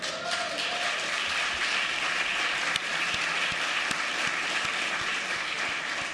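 Steady, full applause fills a legislative chamber during a regular session, a dense wash of many clapping hands with a few sharper claps standing out, heard without speech.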